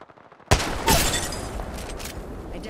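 A heavy Kraber sniper rifle shot in Apex Legends during a match, followed by gunfire and game action sounds.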